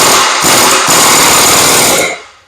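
Air impact wrench hammering a piston nut tight onto a log splitter hydraulic cylinder rod: a loud, close, continuous rattling burst with a brief hitch near the start, stopping abruptly after about two seconds.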